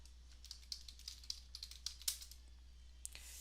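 Someone types a username on a computer keyboard, producing a quick run of crisp, close keystroke clicks with a brief pause and one final tap, over a faint steady hum.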